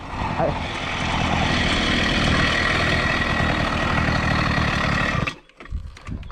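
A bicycle fitted with a small combustion engine runs with a steady buzzing drone for about five seconds, then cuts out abruptly, leaving brief rustling.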